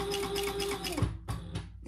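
Sewing machine stitching a narrow seam with a shortened stitch length on a wristlet, a brief steady whir that winds down into a few short bursts and clicks.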